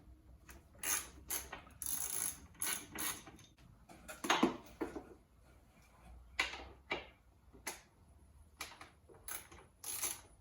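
Tail tidy bolts on a Honda CBR650R come off with an 8mm Allen key: close, repeated bursts of rapid ratcheting clicks and mechanical clatter, separated by brief pauses.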